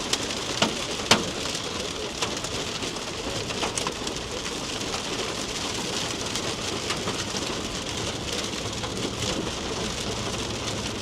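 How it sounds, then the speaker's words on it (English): Pea-size hail and rain fall steadily during a thunderstorm, a dense continuous patter close by with a few sharper ticks of hitting stones and no talk. "Very small hail, like pea-size hail."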